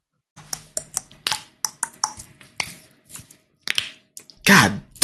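Several sharp cracking pops from a neck in close succession, loud and close, followed by a broad burst of noise; no talk over them.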